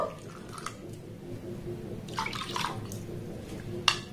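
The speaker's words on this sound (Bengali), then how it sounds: "যতটা সুজি নিয়েছি তার ডবল এখানে আমি জল দিয়ে দেব" Water poured into a bowl of semolina, giving a faint, quiet trickle and splash with a brighter pour in the middle and a small drip-like clink near the end.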